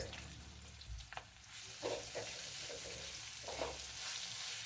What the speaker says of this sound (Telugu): కొంచెం అల్లం వెల్లుల్లిపాయలోని పచ్చిదనం పోయే వరకు వేయించుకుందాం